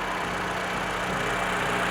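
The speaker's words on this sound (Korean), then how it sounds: "엔진 소리 한번 잠시 담아드릴게요." A Toyota New Camry engine idles during a used-car inspection, giving a steady, even running hum that holds at a constant level for about two seconds with no voices over it.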